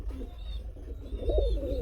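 A male Gola pigeon cooing softly nearby, a few low, rolling coo notes in short succession against quiet background noise.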